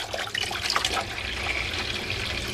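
Water gushes steadily from a faucet fitted with a water filtration system, a broad hissing splash with gurgling bubbles, close and continuous.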